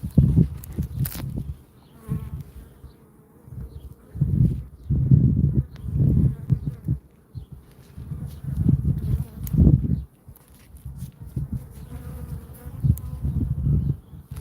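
Feral honeybees buzz around a hive in repeated swelling bursts, the droning rising and fading as insects pass close by, with light knocks and rustles between.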